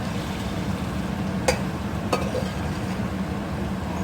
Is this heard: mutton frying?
yes